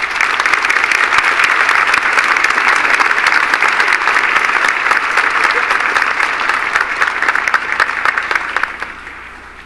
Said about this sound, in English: Ladies and gentlemen, please give these distinguished guests a round of applause.